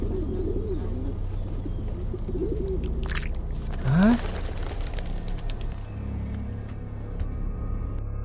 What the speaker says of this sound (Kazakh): Көгершін қайда жоқ болып кетті?